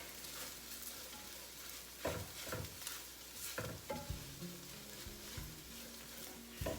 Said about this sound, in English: the eggs, make them sort of like scrambled eggs. And what's so good about this is that it's incorporating some of that bacon fat.